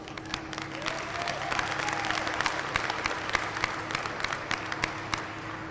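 Applause at a county fair goat show, a moderate round of clapping from a crowd, steady with sharper individual claps standing out, continuing evenly for several seconds.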